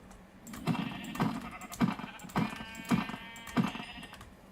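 Several short sheep bleats from the Minecraft video game sound at a steady pace over a soft background clatter that resembles computer keyboard typing.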